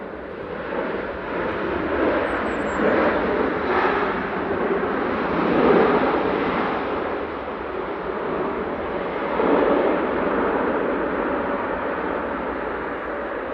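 A Boeing 787-9 Dreamliner arrives at Manchester Airport in strong wind, a distant jet engine roar blended with gusty wind noise that swells and fades without a break.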